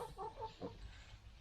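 A hen on a farm clucking a few soft, quick notes close by, faint against low background noise, with no one speaking.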